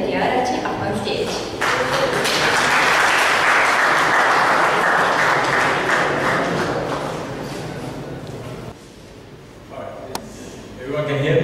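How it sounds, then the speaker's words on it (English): An audience at the Innoforum 2013 event bursts into loud, dense applause as a speaker comes on stage. The clapping swells, holds, then tapers off, and a voice speaks near the end. "So, another round of applause."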